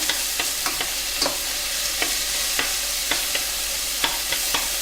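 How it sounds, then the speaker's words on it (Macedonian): Chopped onion sizzles steadily in a hot pan for a Macedonian chicken and rice dish, broken by repeated sharp clicks and scrapes of a utensil stirring it at a regular pace, close and fairly loud with no talking. "Откако ќе се испржи убаво кромидот"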